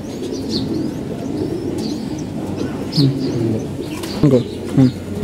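Racing pigeons coo softly in their loft, with a few short throaty calls near the end over low background murmur and no clear talking.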